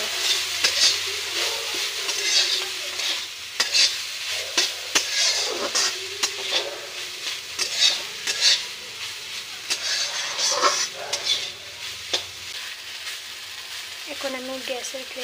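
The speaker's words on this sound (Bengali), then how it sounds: "এখন আমি গ্যাসের ফ্লেমটি হালকা বাড়িয়ে একটু ভালো মতো ভেজে নেব" Food frying on a gas flame for a Bengali dish of lati and dheki shak, with steady crackling sizzle and occasional stirring clatter throughout, close and moderately loud with no talk.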